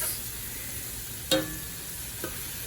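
Meat for jambalaya sizzles softly as it browns in a pan, a faint steady crackle broken by one sharp utensil clink and a smaller tap later.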